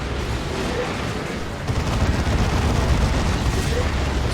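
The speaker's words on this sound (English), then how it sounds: "These plasma cannons are so nasty." Plasma cannons firing in the Dawn of War 2 video game, a 3v3 battle, heard as a dense, continuous barrage of booming blasts and gunfire that grows louder midway.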